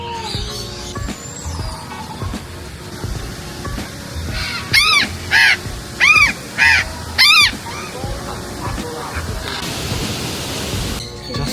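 Harsh crow caws ring out at a bird park, a run of about five loud calls in quick succession midway through, over a steady background hum of the park.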